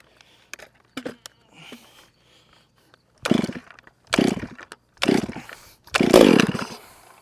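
A Husqvarna 395 chainsaw fitted with a foam air filter, first a few short sputtering pulls, then four loud revving bursts separated by brief pauses, close up.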